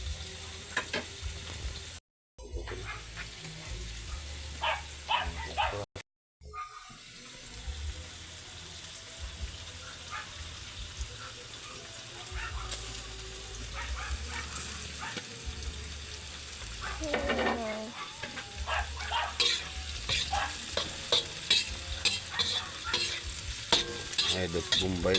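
String beans and smoked fish stir-fry in a pan, a continuous sizzle with scraping spatula strokes, two brief silent cuts early on, and frying growing louder and busier toward the end; no talk.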